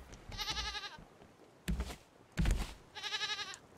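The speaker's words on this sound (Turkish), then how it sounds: "Keçi gitti." A goat in the survival game Raft gives two nasal, wavering bleats, separated by a couple of soft thuds, fairly close and clear over a quiet background.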